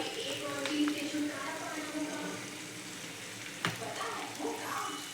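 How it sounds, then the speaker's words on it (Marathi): Tomato sauce goes into pasta in a pan, a soft sizzle and stirring scrape with a clink, alongside a speaking voice. "टोमॅटो सॉस टाकूया"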